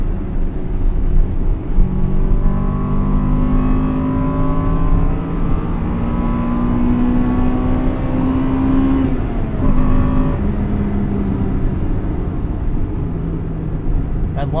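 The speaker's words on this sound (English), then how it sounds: "you get up into Vtec and these things just sing" A 1998 Acura Integra Type R engine revs up through the gears, its pitch rising repeatedly toward VTEC with brief dips at shifts, loud and close inside the cabin, while a voice talks over it at times.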